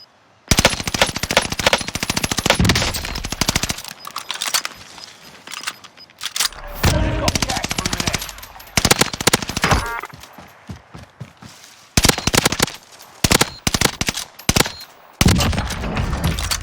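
Rapid bursts of automatic gunfire from the Automaton loadout in Call of Duty: Warzone, loud and close, come in repeated sprays separated by short pauses and brief lulls, with no talk over them.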